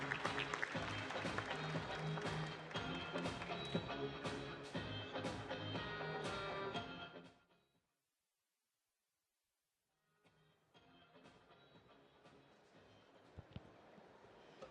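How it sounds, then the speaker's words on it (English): An audience at a tourism conference applauds as a speaker takes the stage: loud, dense clapping for about seven seconds that fades to a brief silence, followed by quieter, scattered clapping. "Please give her a round of applause for joining me on the stage."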